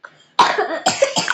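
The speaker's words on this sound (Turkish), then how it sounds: "Hep öksürüyorum." A child coughs three times in quick succession, close to the microphone, after a brief faint breath.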